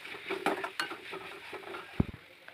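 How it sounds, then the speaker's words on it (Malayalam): Chicken stew base with garlic and ginger stirred in a pan, giving soft scraping and light clinking of a spoon against metal over a faint sizzle, with a sharper knock near the end. "നന്നായി ഇളക്കുക."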